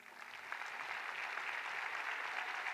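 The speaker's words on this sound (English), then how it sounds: "Somebody give a hand clap of praise" A gathering of school board members and guests at a memorial for Almond Turner breaks into applause, a steady patter of many hands that builds slightly and holds for a few seconds.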